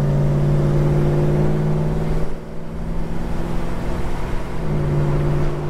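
A Holden HK car drives down the road on a test run, its engine a steady, loud droning hum with a brief dip in the middle before the note settles back in.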